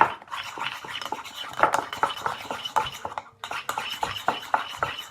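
Honey being stirred into a homemade beauty-care mixture, heard as busy, rapid clinking and scraping of a spoon against a bowl, close and steady with a brief pause partway through.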